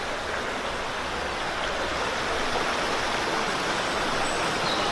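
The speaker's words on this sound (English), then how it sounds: "Waterfall." Waterfall on a countryside walk, a steady, dense rushing of falling water heard at moderate distance, alone and unbroken for the whole stretch.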